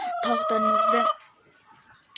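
A rooster crows close by in one loud, drawn-out call, followed by quieter clucking and faint farmyard sounds.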